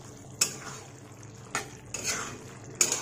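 Spoon stirring brown chickpea curry in a cooking pot, giving a few sharp clinks against the metal spaced about a second apart, with soft scraping and faint sizzling in between.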